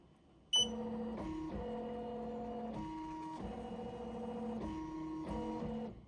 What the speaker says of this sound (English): we're ready to start stitching out our design